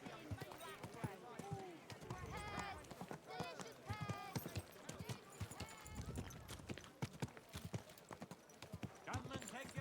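Rhythmic clip-clop of a horse's hooves trotting in Kingdom Come: Deliverance II, steady and close, running under ongoing talk throughout.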